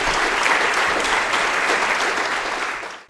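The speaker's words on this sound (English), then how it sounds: "I would like all of you to give them a big round of applause." A room full of people applauding award recipients at a chamber of commerce board gathering, dense sustained clapping at even loudness that tails off near the end, with no talking.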